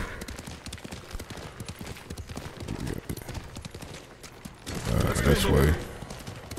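Horse hooves clip-clop in Ghost of Tsushima under steady talk from players, with a louder, dense burst of galloping and clatter near the end.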